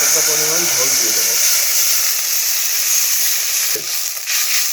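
Broth for a burnt-style katla fish jhol hits hot oil with fried nigella seeds and chillies, setting off a loud, sustained hiss and sizzle right after a brief voice at the start.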